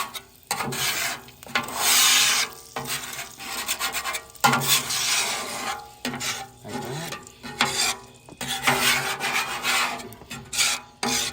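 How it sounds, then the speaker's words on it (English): A metal scraper rasps across a Blackstone griddle, pushing residue toward the grease trap in repeated long strokes with short pauses between, loud and close with no voices. "I'm going to scrape it all into the grease trap like this"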